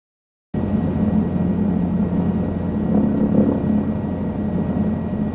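Helicopter flying in Microsoft Flight Simulator 2020 starts abruptly after a moment of silence, then holds a loud steady rotor and engine drone with a slight swell midway, no talk.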